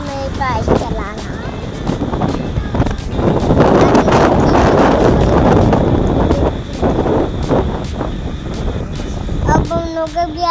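Wind rushes loudly past the microphone while a child sits up front on a motorbike ridden with family, a steady roaring buffet with brief spoken moments.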